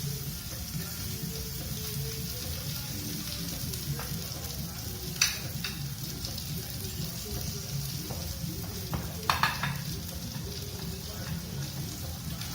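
Asparagus, spaghetti squash and broccoli sizzle steadily in a frying pan while being stirred, with occasional soft scraping clicks from the utensil over the constant frying hiss.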